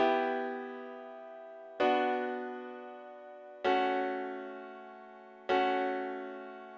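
A dark, sad minor chord progression built in FL Studio for a drill beat: four sustained synth chords, each struck about every two seconds and slowly decaying, heard alone with no talking.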